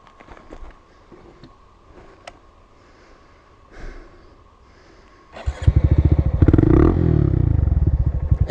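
Honda Monkey motorcycle riding off-road over ledges: quiet clattering and scraping at first, then the small engine bursts to life loudly and revs hard in a rapid, throbbing run close by.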